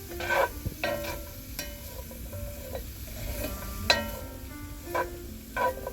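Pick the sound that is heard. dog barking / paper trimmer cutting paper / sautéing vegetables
sautéing vegetables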